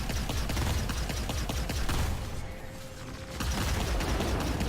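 Missile explosions in a space video game, a dense crackling barrage of rapid blasts and rumbling impacts that briefly eases before resuming at full loudness.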